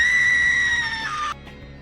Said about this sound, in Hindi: एक भयंकर चीख सुनाई दी